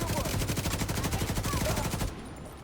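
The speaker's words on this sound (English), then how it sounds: "Way too many shots coming in here." Rapid automatic gunfire in a video game: a dense, steady burst of shots hammering close and loud for about two seconds before cutting off abruptly into quiet.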